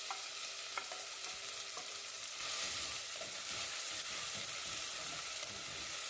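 Chopped onion frying in a pan, a steady bright sizzle with a few soft clinks and scrapes of stirring, close and continuous.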